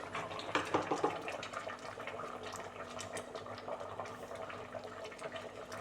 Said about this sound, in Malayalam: നന്നായി തിളച്ച് വന്നിട്ടുണ്ട്.